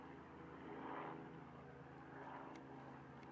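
Faint, distant rotor and engine drone from a small Robinson helicopter passing overhead, a steady throbbing hum with no voices.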